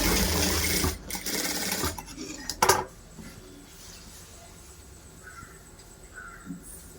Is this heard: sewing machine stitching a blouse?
yes